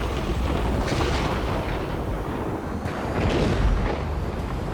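Missile launch and evasion in the Ace Combat 7: Skies Unknown jet combat game: a dense, continuous roaring rumble with swelling booms around the second and fourth seconds, loud and steady throughout, with no talk.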